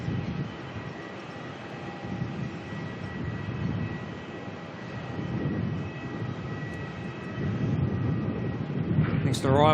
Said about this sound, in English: Next arrival coming on in, Jetstar 321 Neo out of Brisbane.